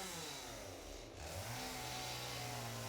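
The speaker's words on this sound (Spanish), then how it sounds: "Motosierra." A chainsaw in the Satisfactory video game buzzes continuously with a wavering, revving engine tone that dips briefly and then rises again, faint and steady.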